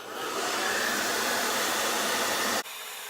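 Hair dryer on medium heat drying a beard, a steady loud whooshing hum that runs alone for under three seconds and then cuts off abruptly.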